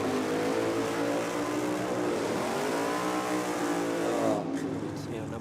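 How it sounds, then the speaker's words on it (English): A front-engine dragster with a Chevy 350 engine revs at Sydney Dragway during a drag racing state championship, a loud sustained roar rising and falling in pitch before cutting off abruptly, with crowd noise behind. "the little front engine Dragster, the Chevy 350, this one I'm thinking of"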